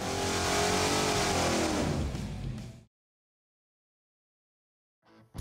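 A 410ci stack-injected stroker LS V8 with self-learning EFI roars at full throttle on an engine dyno for about three seconds, then cuts off abruptly, leaving silence before a brief burst of noise returns at the end.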